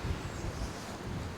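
Wind buffets the microphone with a low, steady rumble and gusty roar throughout, on hilly ground at Prinknash Abbey.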